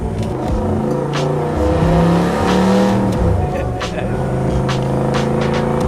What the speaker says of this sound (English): You're not gonna be able to hear me much when this engine goes.